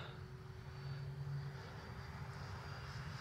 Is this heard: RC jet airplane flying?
yes